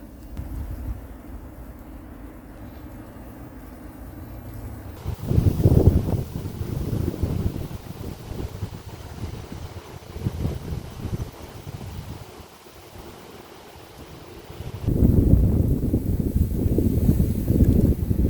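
Wind buffets the microphone at a fishing reservoir in spring, a steady low rumble that swells into loud gusts around the middle and again near the end, with no one talking.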